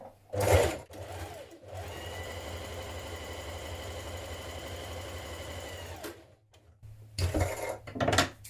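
A sewing machine runs a steady, humming stitch along a sweatshirt cuff seam for several seconds, close and even. Clunks of handling come before and after.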